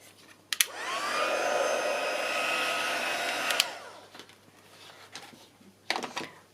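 A hair dryer or heat tool runs steadily for about three seconds, drying paint on a papercraft altered book page, close and fairly loud, with brief clicks as it switches on and off and handling noises afterward.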